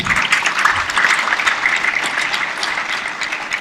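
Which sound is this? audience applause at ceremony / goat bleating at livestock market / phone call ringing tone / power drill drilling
audience applause at ceremony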